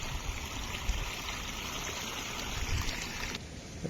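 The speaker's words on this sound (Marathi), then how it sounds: "पाण्याचा हे झरा आहेत झरा" Spring stream water flowing in a rural Konkan village during rain, a steady close trickling and gurgling wash running evenly throughout.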